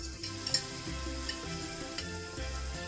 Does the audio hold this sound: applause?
no